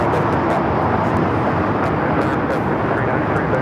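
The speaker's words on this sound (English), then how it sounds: "Airlines Flight 61 taking off to Tokyo, Narita on the 787-9 Dreamliner in the One World livery." A Boeing 787-9 Dreamliner in oneworld livery takes off for Tokyo Narita at Los Angeles airport, its engines a loud, dense, continuous roar with voices faintly underneath.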